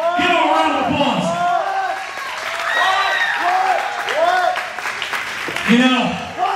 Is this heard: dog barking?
no